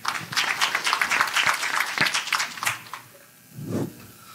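A conference audience at PyCon TW 2019 claps to welcome a speaker; brisk, fairly close applause runs for about three seconds, then dies away, and a low voice follows.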